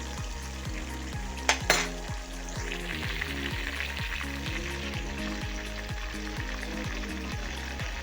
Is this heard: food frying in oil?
yes